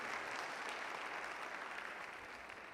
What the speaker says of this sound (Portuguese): Quem recebe aí, dá um aplauso ao Senhor Jesus.